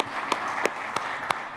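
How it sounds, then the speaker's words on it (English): Light applause from a conference audience at a culinary event on Mennonite cuisine, a steady wash of clapping with a few sharper individual claps standing out, brief and moderately distant. "We're going to give you a round of applause from this side"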